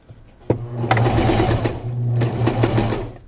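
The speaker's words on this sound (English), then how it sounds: "I'm going to start sewing 3 forward, 3 back, okay, and I'm just going to stitch all the way down." A sewing machine stitching the curved crotch seam of a garment. A loud, close motor whir runs in two steady bursts with a brief slowdown between them, and there is no talk.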